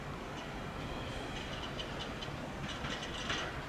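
A Norfolk Southern NS-228 freight train passes southbound carrying two catfish, producing a continuous broad rumble with faint clickety-clack of wheels, steady and moderately loud.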